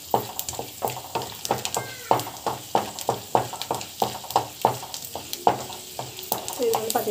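Food sautés in oil while being stirred, giving a rhythmic series of scraping strokes over a continuous sizzle, close and fairly loud, with a faint squeaky sound near the end.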